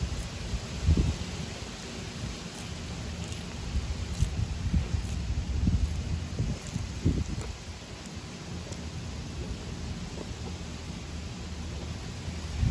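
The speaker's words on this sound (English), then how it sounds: "Such a windy day" Wind blows strongly outdoors in a tortoise enclosure, a constant broadband rush with low rumbling gusts buffeting the microphone, and no voices.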